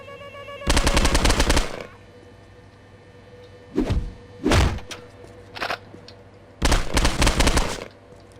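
Rifle gunfire in Postal 2 comes in separate bursts: a long rapid automatic volley, two short sharp bursts close together, then another sustained rattling burst, with quiet gaps between and no talking.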